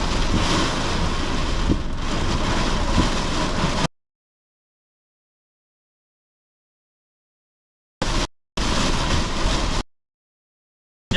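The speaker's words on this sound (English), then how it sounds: "Can hear the rain." Steady storm rain in South East Queensland hisses loudly with some wind noise, cutting off abruptly into silence and returning in short bursts.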